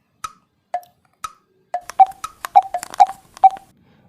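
Telephone dialing tones, a series of short keypad beeps, first evenly spaced and then quicker and overlapping, loud and close against silence.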